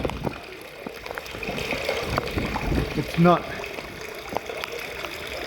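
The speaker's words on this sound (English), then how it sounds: "Our first bit of water into our tank." Water trickling steadily into a newly plumbed water tank during a house renovation, a soft continuous flow with people talking over it.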